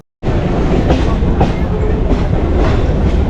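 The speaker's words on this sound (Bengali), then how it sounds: "এই ট্রেনটি আটটা চুয়ান্ন মিনিট নাগাদ লক্ষ্মীকান্তপুর স্টেশনে ঢোকে" A passenger train arriving at Lakshmikantapur station in West Bengal, its wagons rumbling loudly and close by with rhythmic clickety-clack of wheels over rail joints, heard without talk.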